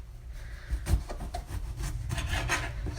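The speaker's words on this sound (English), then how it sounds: "what you're going to do is cut them into 1-inch slices" A knife slices through eggplant into thick one-inch rounds on a cutting board, a series of soft, rasping cuts with light knocks, faint and close.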